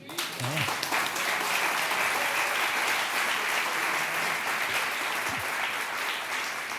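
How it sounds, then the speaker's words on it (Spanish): A church congregation applauds for the Lord during a sermon, broad sustained clapping filling the hall at an even level from start to finish, with faint voices underneath. "le damos un aplauso al Señor"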